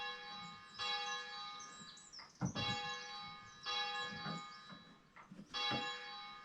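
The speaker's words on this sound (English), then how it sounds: "ring up the bell" Bell strikes from a bell-ringing practice simulator, with about four ringing, tonal strokes at a steady spacing. Each rings on with a long, bright sustain, and softer thuds sit between them.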